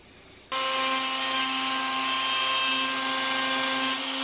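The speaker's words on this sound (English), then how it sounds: "that way I can use my router to cut out that hole" A wood router cuts out a hole in a workpiece, starting abruptly with a loud, steady high-pitched whine that holds evenly for several seconds, close and alone.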